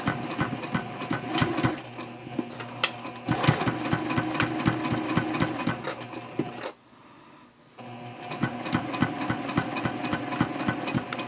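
A domestic sewing machine runs in bursts at stitch length 3.0 while stitching a tote handbag strap near a D-ring, steady rapid needle clatter with a pause of near silence between runs.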